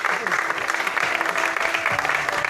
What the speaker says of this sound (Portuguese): Aplausos para Cucu, a mulheragem.